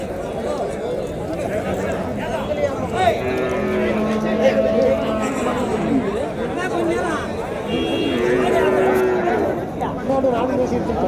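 Native cattle and large bullocks at a cattle market in Uthangarai, Krishnagiri district, give several drawn-out moos amid a steady murmur of crowd chatter, with someone talking over them throughout.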